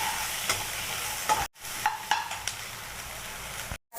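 Tomatoes sautéing in oil with salt for an okra curry: a close, steady sizzle broken by scraping stirs and clicks of a spoon against the pan, with two short silent gaps.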